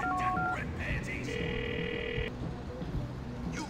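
Phone keypad tones beep in a quick sequence in GTA 4 The Lost and Damned, followed by a longer steady dial tone, all over background noise and voices.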